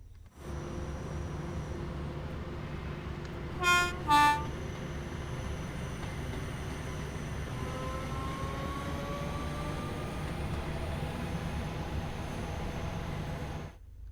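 A Class 314 electric train runs on the Cathcart Circle in Train Sim World 4. A continuous rumble carries two short, loud horn blasts early on, then a thin rising whine as it rolls on.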